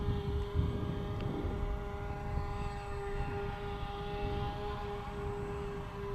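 A RingRat 250 radio-controlled model airplane flies a loop outdoors in rising wind. Its propeller gives a steady, distant, thin whine held at a constant pitch, over breezy background rumble, with no talk.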